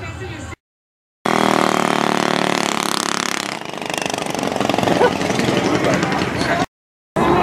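A small mini bike engine revs loudly and steadily, with a rough buzzing drone that holds for several seconds between brief gaps of silence, while a voice talks over it.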